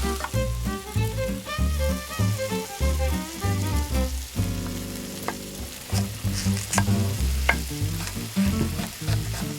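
Onions, garlic, smoked paprika, cumin and fennel seeds cooking in a pan inside a greenhouse, a steady sizzle and frying crackle running under a louder layer of music.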